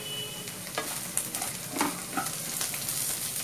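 Chopped green chillies land in a hot pan with roasting peanuts, setting off a close sizzle as a spoon stirs and scrapes in irregular bursts over a steady frying hiss, with no voices.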